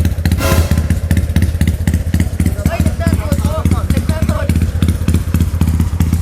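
A motorcycle engine starts and idles loud and close with a rapid, pulsing chug, and a voice speaks briefly over it.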